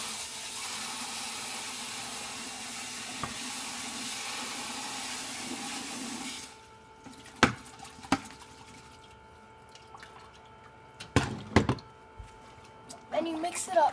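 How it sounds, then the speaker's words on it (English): Water from a garden hose runs onto shale in a steady broadband wash for several seconds, then stops, leaving scattered splashes, drips and clatters. "you go grab the hose and you add water to the shale"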